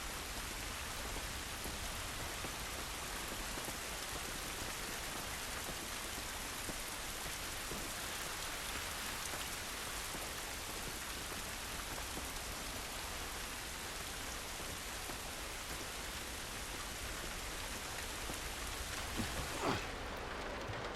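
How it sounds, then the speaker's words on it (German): Rain pours steadily in the video game The Last of Us Remastered, a dense even hiss of drops on surfaces with no talk, lasting about twenty seconds before a faint thud near the end. "Dieser Regen ist nicht gut für uns."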